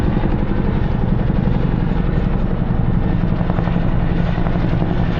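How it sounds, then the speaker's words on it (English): Military helicopters pass overhead with a loud, continuous rotor thump and engine roar that stays steady and close throughout. "There's lots of military choppers lately."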